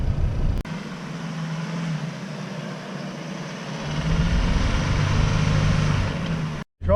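A car driving on beach sand rolls along with a low engine hum under steady broadband rumble, briefly cutting out at the start and swelling slightly toward the end.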